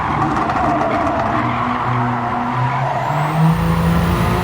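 A race car in the Gran Turismo 7 video game accelerates flat out, its engine roaring loud and steady with rising pitch and a brief tire squeal, heard alone without talk.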